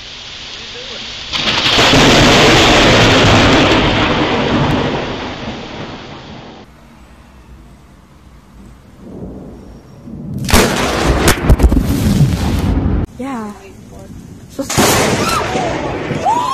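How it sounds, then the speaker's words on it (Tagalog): A nearby lightning strike recorded by a vehicle dash camera during a storm, with a loud explosive thunder crack, long rumbling roll, then further sharp crashes over steady rain. "biglang tumama ang kidlat"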